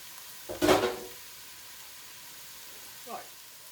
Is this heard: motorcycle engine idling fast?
no